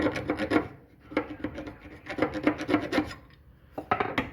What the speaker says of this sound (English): So we're going to file.